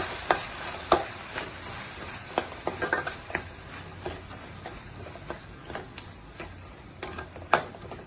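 Pasta sauce with coriander and cumin powder is stirred in a pan, a soft sizzle beneath irregular sharp scrapes and clicks of a spoon against the metal, close and steady, with no voices.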